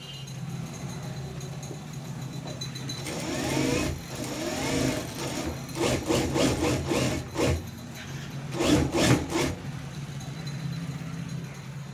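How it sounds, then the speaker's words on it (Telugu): A sewing machine stitches a plain blouse in short, rapid bursts of mechanical whirring, close and fairly quiet, separated by pauses. "ఇప్పుడు ఇటువైపు నుంచి మనము స్టిచ్చింగ్ అనేది"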